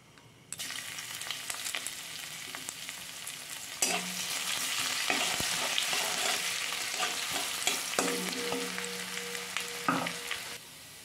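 Ginger paste sizzling and frying in hot oil with dried red chilli and five-spice, a steady close crackle with stirring scrapes that grows busier partway through, no voices.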